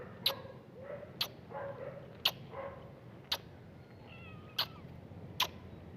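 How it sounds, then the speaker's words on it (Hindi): A cat meows softly a few times against a quiet room, with sharp clicking taps recurring at a steady pace. "ये बिल्ली है"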